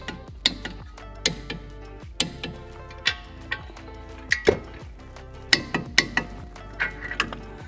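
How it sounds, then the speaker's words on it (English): A torque wrench clicks repeatedly while tightening the wheel hub bolts on a Tesla Model 3 front hub, giving close, sharp ratcheting ticks in irregular bursts with no talk. "now we'll torque down our bolts to 85 Newton meters"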